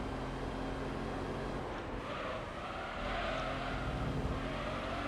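Race car engine from the Gran Turismo 3 video game, holding a steady drone with brief dips that suggest gear shifts, heard close with no talking.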